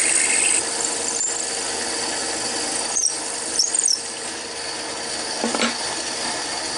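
A wood lathe turning a penguin Christmas ornament while a tenon is sized: a steady broadband whir and rasp of the tool on spinning wood, with a few brief squeals and scraping catches, no talking.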